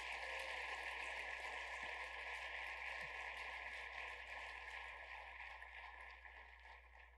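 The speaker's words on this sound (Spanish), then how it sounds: "Dele un fuerte aplauso al Señor" A church congregation at a Spanish-language service claps in praise, a faint, steady wash of applause behind a constant low hum that fades slightly toward the end.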